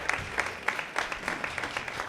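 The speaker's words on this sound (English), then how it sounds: "please let's give Furkan a really big round of applause" Gala audience at an awards ceremony applauding a poem, dense clapping from a crowd that holds steady at moderate loudness for the whole stretch.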